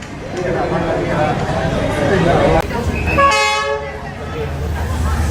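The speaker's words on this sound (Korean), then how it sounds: "드디어 열차가 기적 소리를 울리면서 지나가고 있습니다" A train horn blows a long, loud tone as the train passes through Hanoi's narrow Train Street, following a stretch of rumbling noise, with a voice talking underneath.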